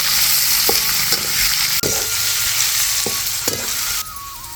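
Finely chopped onion hitting hot oil with cumin, mustard seeds and curry leaves in an Indian kitchen pan, loud close sizzle with several sharp stirring scrapes, no talking.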